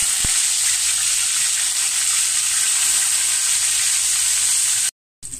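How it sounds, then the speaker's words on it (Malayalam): Curry leaves dropped into hot oil after the mustard seeds have popped, giving a loud, steady, close sizzle and crackle that runs without a break before cutting out briefly near the end. "കടുക് പൊട്ടിക്കഴിഞ്ഞ് നമുക്ക് കറിവേപ്പില ഇട്ട് കൊടുക്കാം."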